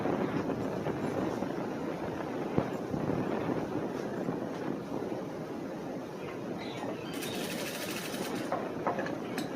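A sewing machine stitches the front panel of a cross-cut blouse. It gives a steady, dense mechanical whir throughout with no breaks, and a brief brighter rattle near the end.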